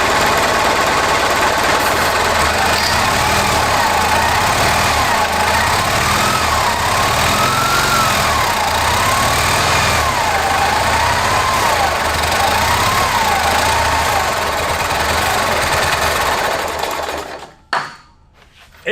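A retired military generator engine runs close by, a loud steady mechanical chugging with a rhythmic pulsing beat and a wavering whine on top, continuing for about seventeen seconds before dropping away into brief clatter.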